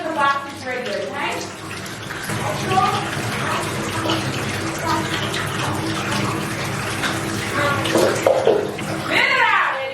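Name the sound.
bathtub filling with water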